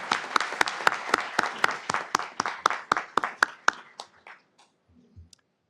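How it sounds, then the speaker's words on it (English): Crisp, evenly spaced claps ring out in a brisk steady rhythm at a community evening gathering honoring local high schools, then taper off and fade into near silence. "Let's give them a round of applause for being here."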